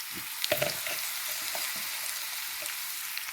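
Thin slices of cassava frying in hot oil in a pan, a steady close sizzle with faint crackles and a few small pops throughout, no voices.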